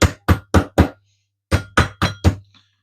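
Eight sharp pounding thuds of a meat mallet on chicken, two quick groups of four, loud and close with short silences between.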